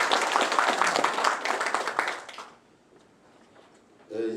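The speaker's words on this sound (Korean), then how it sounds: "좋은 말씀 해주신 정성호 국회의원님께 다시 한번 큰 박수 부탁드립니다" Audience applause at a 2023 residents' forum for a National Assembly member in Yangju, South Korea: dense clapping from a seated crowd for about two and a half seconds, fading into quiet, with faint renewed sound near the end.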